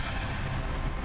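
A bomb explodes in a video game as a loud, dense low rumble that fills the entire second without letting up, with no voices.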